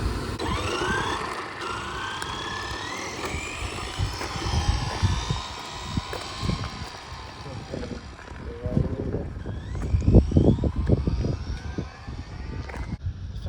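Arrma Infraction 1/8 scale RC car on a speed run outdoors: a high electric-motor whine repeatedly climbs in pitch over steady wind buffeting, with brief thumps and clatter near the end.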